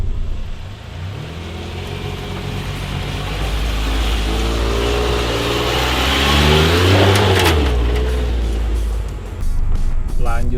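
A turbocharged Suzuki Jimny JB23 climbing an off-road slope revs hard and close, its engine note rising and swelling through the climb before easing off, with a few clicks and knocks near the end.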